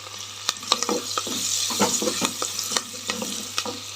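Cloves and coriander stirred and frying in a pan, a steady close sizzle broken by frequent sharp spoon scrapes and taps against the pan, with no talking.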